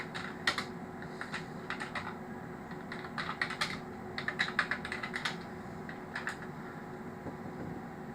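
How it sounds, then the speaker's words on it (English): Quick bursts of typing on a computer keyboard, irregular clusters of light clicks close by and fairly quiet, over a low steady background hum. "So if I type that into the internet"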